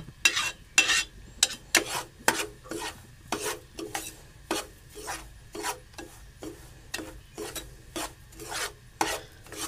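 Dry semolina scraped and stirred in a pan while being roasted, a steady run of rasping strokes about twice a second, close and clear with no talk.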